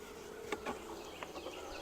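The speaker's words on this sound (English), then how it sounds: "it made the bees kind of buzz a little bit" Honeybees in a wooden swarm box give off a faint, continuous buzzing with a few brief louder passes from individual bees, and no talking.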